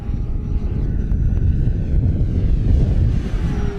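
An FMS P-40B Flying Tiger, a 1400mm electric RC warbird, flies overhead with its power coming in, giving a steady, loud motor and propeller drone that swells slightly as it passes. No one speaks.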